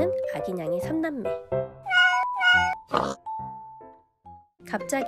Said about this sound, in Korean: 이제는 소리 내서 울기도 하는 꼬물이들